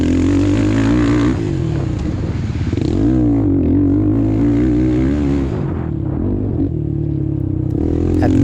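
An ATV engine races hard through the turns of a hare scramble event on a farm course, a loud, continuous roar with rising and falling revs that stays close throughout, with no talk.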